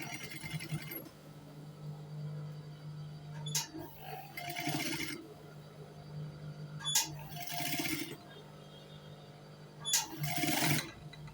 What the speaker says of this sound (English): You place it, then you start sewing.